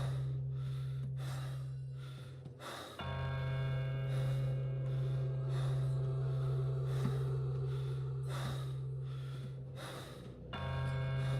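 Heavy rhythmic breathing from Pathologic 2, slow drawn breaths repeating roughly every second or two over a steady low hum and faint ringing bell tones, close and loud with no voice.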